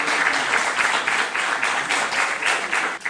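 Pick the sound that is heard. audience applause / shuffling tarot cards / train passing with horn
audience applause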